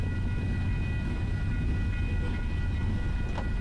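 A Union Pacific GEVO locomotive train picking up speed gives a steady low rumble with a faint tonal whine, heard from a distance, with no voices.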